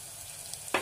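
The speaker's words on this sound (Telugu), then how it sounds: "అల్లం వెల్లుల్లి పచ్చి వాసన పోయేంత వరకు మనం ఫ్రై చేసుకోవాలి. కొద్దిగా కరివేపాకు వేసుకుందామండి." Ginger garlic paste and curry leaves fry in a pan with a steady hissing sizzle, then a sharp, louder crackling spurt near the end.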